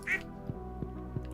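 A duck in the Stardew Valley farming game gives one short, clear quack at the start, followed by soft game music with gentle rhythmic thumps.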